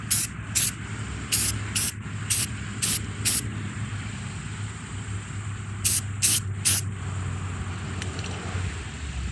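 A light coat of spray paint goes onto a 1968 AMT Klingon battle cruiser plastic model kit in short hissing bursts, several quick sprays then a pause and a few more, over steady background noise with no talking.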